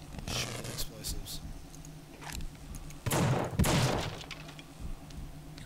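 Gunshots and explosives blowing up in The Suffering, with a few sharp shots followed by two loud, heavy bursts midway, mixed with voices talking.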